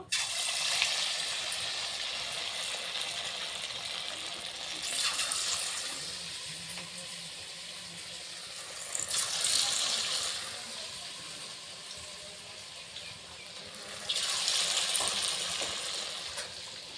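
Grated potato fritters fry in hot oil, a continuous soft sizzle that swells into louder bubbling surges three times as batter goes into the pan.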